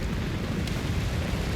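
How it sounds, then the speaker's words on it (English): Dive bomber strafes and explosions in the strategy game Company of Heroes 3, a loud, continuous roar of blasts and rumbling noise with no pauses across the short clip. "Danger close with the dive bombers,"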